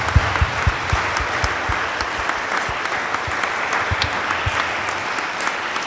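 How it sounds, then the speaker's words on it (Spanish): Guests at a quinceañera celebration applaud the girl of honor, producing a continuous crowd of clapping at steady volume with a few sharper nearby claps, and no voices over it. "Un fuerte aplauso a la festejada del día de hoy."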